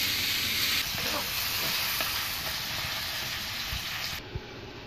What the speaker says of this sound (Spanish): Lo vaciamos en la cazuela sin grasa y vamos a proceder a que se haga doradito.